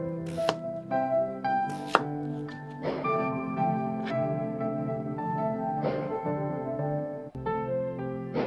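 A knife chops carrot and beetroot into fine slices for a baby's soup: crisp, close strikes on a board, spaced irregularly over several seconds.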